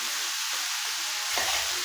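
Mashed potatoes sautéed in a pan for Guntur karam dosa give a brief steady sizzle with a few soft stirring scrapes, close and alone.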